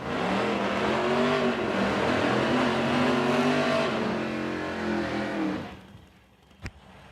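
A 56 Chevrolet and an 88 Buick race cars at a motorsports event, engines roaring loud and close with rising and falling revs, then the sound drops away abruptly, followed by a single sharp knock.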